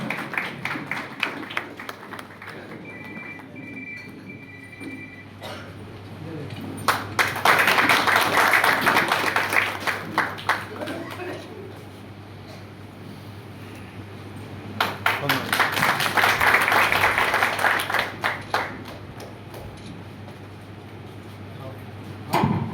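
An audience at a community gathering claps to welcome a newly appointed minister: two loud bursts of applause swell and fade several seconds apart, with someone speaking over a microphone in between.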